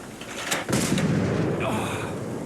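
A junk mortar in Fallout 4, loaded with bowling balls, lead bars and wood planks and tilted to 75 degrees, fires with a sharp loud blast and a rumbling, rushing tail.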